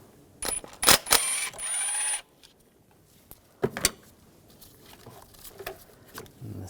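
An E10 socket wrench loosens a bolt on the intake manifold of a 2006-2009 Mercedes-Benz E350 3.5L V6. Close, sharp ratcheting clicks come in short bursts, then lighter metallic taps and rattles.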